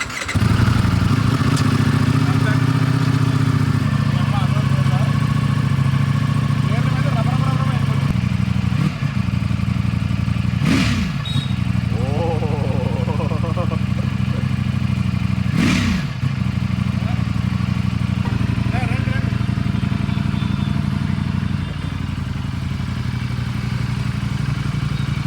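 An Aston Martin Vanquish engine running loud and near, a sustained rumbling drone with a few swelling revs, with voices talking over it.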